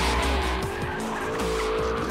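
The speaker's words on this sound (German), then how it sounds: "Driften kann man mit dem Fahrzeug auf jeden Fall" BMW with nearly 1000 Nm of torque drifting, a loud continuous engine roar with tires squealing and skidding throughout, close and without any talk.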